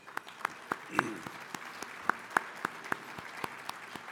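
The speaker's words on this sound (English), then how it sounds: "We can give them a round of applause, please." Sparse, scattered clapping from a few people at a city State of the City address, individual claps spaced irregularly, fairly faint and distant.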